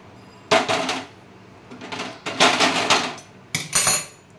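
Cooked jujube (kul) pickle being scraped and poured from a metal pan, heard as three bursts of loud, close clattering and scraping of utensil against pan, separated by short pauses.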